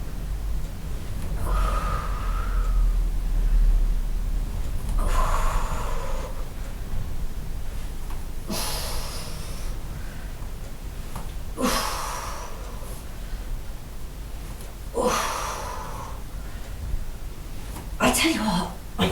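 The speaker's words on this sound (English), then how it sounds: "I'm puffing and panting like a good one today" A person puffs and pants heavily while doing core crunches, with sharp exhaled breaths recurring every few seconds over a low background hiss.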